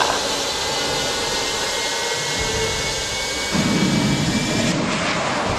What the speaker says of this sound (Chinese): 可以起飞，注意要稳啊！